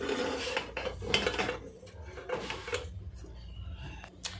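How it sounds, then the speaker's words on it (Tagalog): Small metal cooking pots clank and scrape while being picked up and handled on a shop shelf, a series of close, irregular clatters with softer rubbing between them. "May napili na tayo na kaldero na maliit ni Jo."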